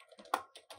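A few quick taps on a computer keyboard while typing text, soft and close, with one slightly louder keystroke in a short, quiet burst.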